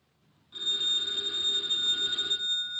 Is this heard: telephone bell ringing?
yes